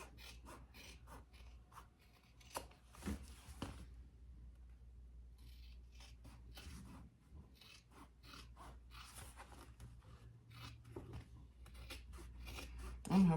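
Scissors trimming fabric around curves while sewing a travel jewelry case, with soft repeated snips and rubbing sounds, faint and close, with low background hum throughout.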